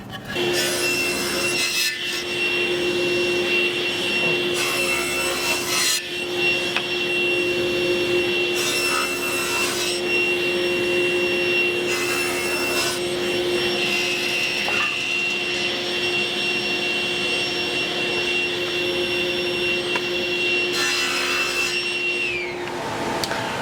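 Power saw cutting salvaged piano wood in a workshop, a steady loud whine running continuously with bursts of rougher cutting noise, no talking.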